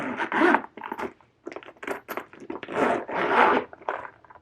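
A bag zipper is pulled back and forth in several quick rasping strokes, close up and fairly loud, with short pauses between pulls.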